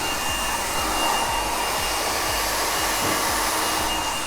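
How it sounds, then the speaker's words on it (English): A hair dryer blow drying hair extensions, a steady loud whooshing airflow with a constant motor whine and faint rhythmic thumps, continuous with no speech. "the blow dry using the Easy Strands"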